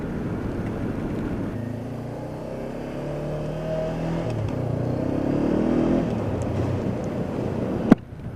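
Motorcycle on Shinko 705 tyres pulling away hard on a wet road, engine note swelling steadily over rumbling wind noise at the helmet, with a sharp knock near the end.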